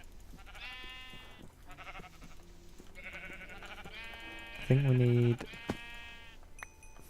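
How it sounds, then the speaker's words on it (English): Several bleats from a sheep in the Minecraft video game, with one loud, close bleat standing out against soft background music while someone talks. "Let's go and kill this sheep here"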